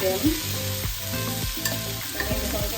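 Tomato chutney ingredients frying in a pan, with a dense, continuous sizzle and several rhythmic stirring scrapes, close and loud, no voices.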